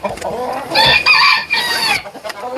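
A Light Brahma rooster crows loudly and close in a farmyard coop, one long strained crow over a background of clucking hens and other fowl.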